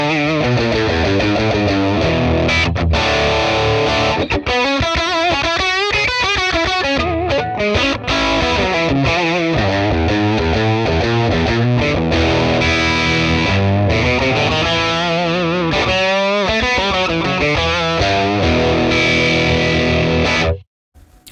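A Les Paul electric guitar plays through a captured 1966 Fender Bassman amp profile with a crunchy, distorted tone. Chords and fast lead runs continue loudly for about twenty seconds, then stop abruptly, with no talking.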